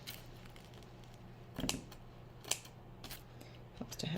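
Dull scissors trimming wood flower craft material: a few soft, close snips spaced a second or so apart over a faint steady background hum.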